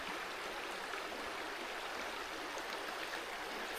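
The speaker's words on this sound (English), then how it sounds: "Such a pretty little stream." A small stream at Frank Gross Campground flows with a soft, continuous rushing and trickling, steady and fairly quiet throughout.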